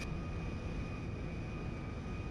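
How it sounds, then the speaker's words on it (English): Steady engine roar of an MD-11 airliner lining up for takeoff in the GTA 5 video game, a continuous even jet drone with a faint high whine, alone without talk. "Line up here, and we'll see how long it takes to actually rotate the airplane."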